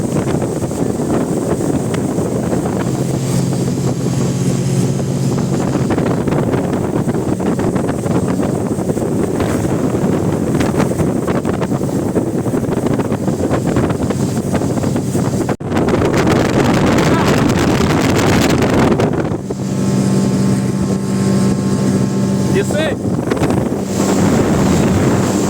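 A speedboat runs across open water with a steady, loud engine drone and rushing water, and wind buffets the microphone throughout.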